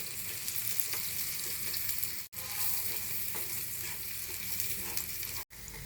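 Spices temper in hot oil for an okra curry, giving a steady, close sizzle and frying crackle that runs unbroken apart from two brief cuts, with no talking.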